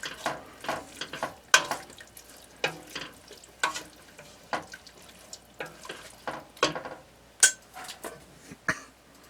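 Italian rice ingredients get stirred in a pot, a series of soft scraping and clattering strokes at an irregular rhythm, close and fairly quiet.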